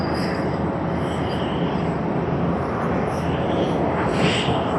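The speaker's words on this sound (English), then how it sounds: "The 787-10 of Korean Air in the new livery." A Korean Air Boeing 787-10 airliner in new livery at snowy Tokyo Haneda Airport, its steady broadband jet roar holding at constant loudness throughout, with no voices over it.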